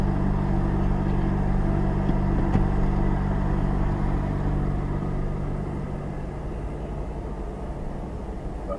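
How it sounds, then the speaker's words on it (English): A lorry idles and creeps up close behind in a slow queue of traffic near the Dunkirk–Dover crossing, a deep, continuous engine rumble that holds fairly steady and eases slightly toward the end. "And that was the moment the lorry behind me came closer."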